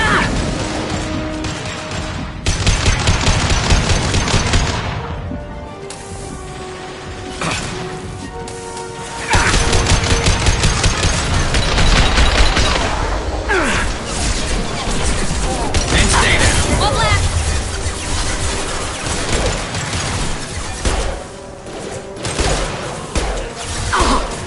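Video game gunfire in Mass Effect 2: sustained bursts of rapid shots and heavy impacts come in dense volleys, loud and close, pausing briefly between barrages, with a voice occasionally calling out under the combat noise.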